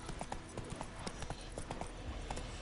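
Roach, the horse in The Witcher 3, galloping with rapid rhythmic hoof clip-clops at a brisk pace, fairly close and moderately quiet, with no voices over the hoofbeats.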